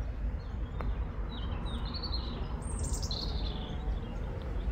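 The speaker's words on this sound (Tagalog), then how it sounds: "Doon, ang daming ibon doon." Birds chirp and trill in a forest, with scattered short high calls heard faintly over a soft, constant background hiss.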